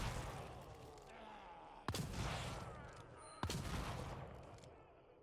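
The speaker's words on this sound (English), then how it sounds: "Oh, no more ammo on this one. Let's use the Magnum." Two loud Magnum revolver shots boom in The Evil Within, each a sharp crack with a long decaying tail, fired about a second and a half apart over game ambience.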